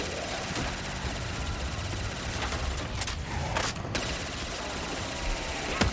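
Guns fire at zombies in an infinitely tall tower zombies video game, producing dense, continuous bursts of gunfire that layer over steady game noise throughout, with a couple of sharper cracks in the middle.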